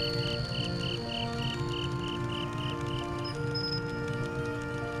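Crickets chirp at night in the Boku no Natsuyasumi video game, a soft, evenly pulsing trill repeating steadily at a distance over a quiet background hum, with a faint higher insect tone near the end.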